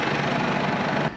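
A farm tractor's engine idles with a steady, loud low rumble and vibration that holds for about a second before cutting off.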